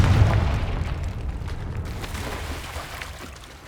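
A Confringo fire spell bursts in Hogwarts Legacy with a loud, deep boom, then trails off into a rumbling decay over a few seconds, with no voices.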